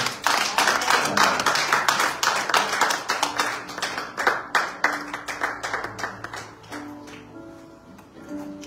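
A church congregation claps together in a quick, steady rhythm of acclaim for the Lord, loud at first and gradually thinning, with faint tones of music or voices underneath.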